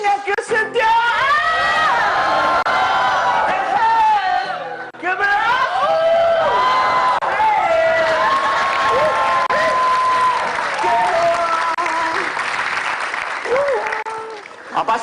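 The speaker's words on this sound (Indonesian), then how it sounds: "Apa sih surak-surakin mulu?" Audience at a stage show cheering and applauding a singer, a loud continuous wash of clapping with whoops and yells, while a voice talks and sings over the noise.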